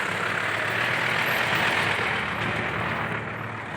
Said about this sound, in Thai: ดันโดยรถไถฟอร์ดครับ